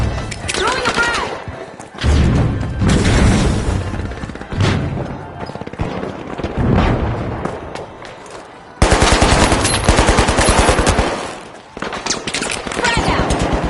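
A frag grenade is thrown amid gunfire in the shooter game The Finals: rapid close bursts of automatic fire and sharp impacts come in waves, loud and dense, with a brief lull before a heavy, sustained volley.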